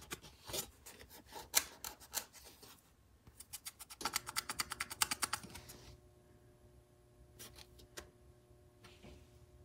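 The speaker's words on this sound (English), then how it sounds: "Like I'm scraping the tag." Scraping and rubbing on a plastic car tag, with quick close rasping strokes in bursts, a denser run of scratchy strokes in the middle, then a few sparse clicks in quiet.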